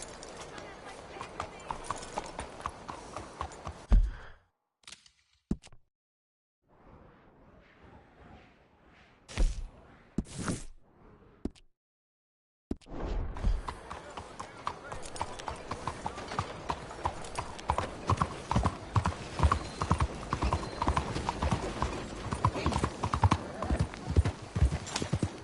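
Horse hooves clip-clop in the Red Dead Redemption 2 video game, a steady close rhythm of hoof strikes with a brief quiet pause midway, while voices talk over it.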